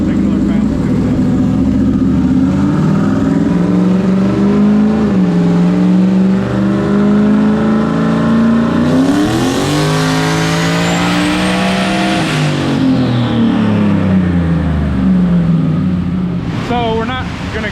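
A turbocharged car, El Toro, makes a dyno pass, its engine droning loud and close as revs rise and fall in long sweeps, with a sharp climb to a high peak near the middle before easing back down.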